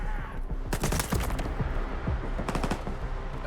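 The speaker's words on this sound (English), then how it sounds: "That's definitely burst fire." Burst fire in S.T.A.L.K.E.R. 2 rings out loud and close: rapid clusters of shots, one burst early and another later, over constant game ambience with no talk.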